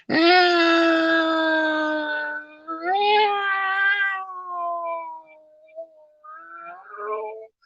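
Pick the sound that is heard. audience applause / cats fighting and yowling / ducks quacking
cats fighting and yowling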